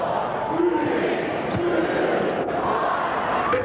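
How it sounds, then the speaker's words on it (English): Basketball arena crowd at a 1998 Kansas Jayhawks vs Nebraska Cornhuskers game roars loudly and continuously, with a voice carrying over the dense crowd noise. "The crowd counts it down."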